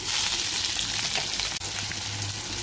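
Garlic, curry leaves, tomato, coriander, salt and red chili sautéing in oil in a pan for toor dal, a close, steady hissing sizzle with light stirring.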